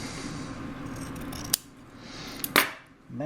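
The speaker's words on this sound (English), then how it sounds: "So now we just cut that extra off." Scissors snip quietly through excess fabric on a handmade longbow case, giving two or three sharp, distinct cuts over a soft background hiss, with no talking.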